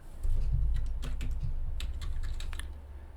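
A short run of crisp, close keystrokes on a computer keyboard types a folder name, fast and irregular over a low steady hum.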